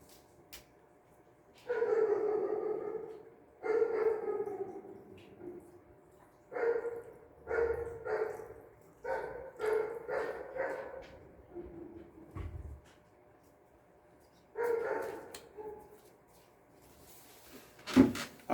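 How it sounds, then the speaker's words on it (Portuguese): A dog barks in short bursts, some single and some in quick runs of three or four, fairly close and moderate in loudness, with quiet pauses between the groups and no talking. "Eu vou dar água pro meu cachorro que ele tá com sede"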